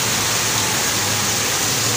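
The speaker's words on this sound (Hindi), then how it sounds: "किस साइड की बारिश हो रही" Steady, dense hiss of rain falling without a break, with no voices.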